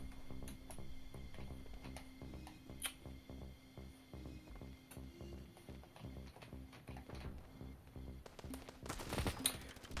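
Bursts of rapid gunfire in the video game Standoff 2 rattle at moderate distance, with scattered single shots and a louder flurry near the end, over a low background hum.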